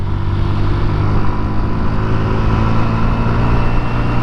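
A Honda Navi small motorbike engine pulls hard under acceleration, a loud, steady engine roar close to the microphone, continuous throughout with no talking.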